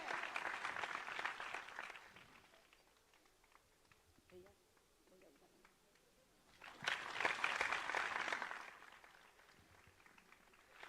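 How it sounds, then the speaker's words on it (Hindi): Audience clapping in welcome at a live religious discourse gathering, coming in two bursts, one at the start and a stronger one later, with quieter scattered claps and faint talk in between. "जोरदार तालियों के साथ इनकी स्वागत किया जाए।"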